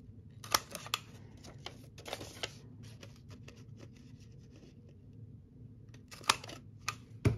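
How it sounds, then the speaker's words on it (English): Sharp cutting clicks from a decorative corner punch trimming a paper corner for a craft folio, a few snips early on and a pair near the end, close and fairly quiet, with faint handling rustle between. "I'm going to go ahead and trim this corner using that deco corner"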